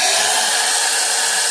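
A blow dryer set to heat runs steadily on hair, a loud continuous broadband whoosh filling the whole moment without pause.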